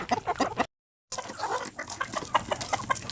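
Chickens on a Philippine farm cluck repeatedly in an outdoor range area, a steady busy chatter of overlapping calls at moderate distance with a brief gap of silence.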